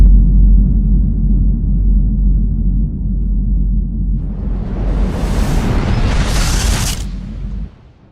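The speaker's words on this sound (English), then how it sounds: "The Big Bang." A Big Bang explosion sound effect: a deep, sustained low rumble builds into a loud, hissing roaring burst that swells for a couple of seconds before the booming tail cuts off abruptly.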